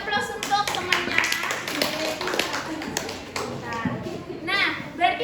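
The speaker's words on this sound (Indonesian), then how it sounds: "Beri aplaus untuk temannya." Classroom children applauding a classmate, a burst of scattered clapping mixed with children's chatter and a teacher's voice.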